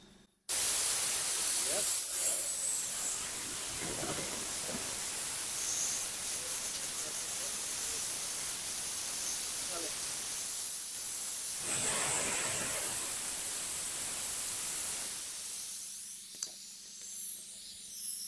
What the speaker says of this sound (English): listen to the air coming out